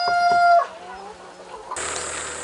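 Chickens at a poultry farm cluck and crow close by, a rooster's call rising over the flock before the barn hum and chatter of many birds take over.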